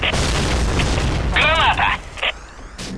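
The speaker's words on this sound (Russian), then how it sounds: "Граната! Граната! Граната!" Grenade explosion in the shooter game Point Blank, a loud rumbling boom filling the opening second and a half, followed by brief electronic game tones, with voices talking over it.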